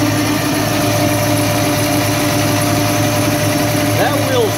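Steady running drone of a scooter motor, close and continuous, with a faint rising whine near the end.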